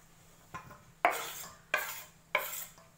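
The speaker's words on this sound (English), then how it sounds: "stir it a little bit" Yoghurt and cucumber drink being stirred in a bowl with a utensil, producing four distinct scraping, clinking strokes, the last three sharper and louder, close up with no talking.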